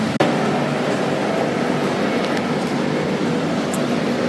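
A train at a station in Bangkok rumbles steadily and loudly, with a sharp click near the start and faint metallic squeals above the constant drone of the platform.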